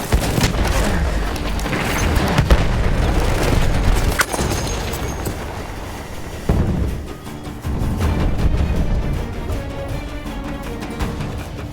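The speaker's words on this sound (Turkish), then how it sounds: "Bomba gönderiyorum." Heavy bomb explosions rumble through a dense World War I battlefield on the Gallipoli Cape Helles operations map in Battlefield 1. Deep booms land near 2.5, 4 and 6.5 seconds over continuous roaring combat noise and gunfire, with no talk.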